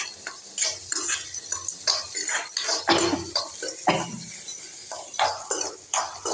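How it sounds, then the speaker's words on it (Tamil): Greens sauté in sesame oil as a spatula scrapes and clatters around the pan in quick irregular strokes over a soft sizzle, close to the listener, with someone speaking now and then. "அதை போட்டிருக்கேன் போட்டு நல்லா வதக்கி விடணும்"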